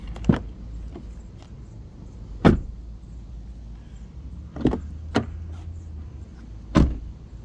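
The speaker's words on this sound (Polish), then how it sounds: "To jeszcze posłuchajmy, jak zamykają się drzwi." Doors of a Dacia Duster 1.0 LPG ECO-G 100 closing, five solid thuds spread over several seconds, close and fairly loud against a low background rumble, with no talking.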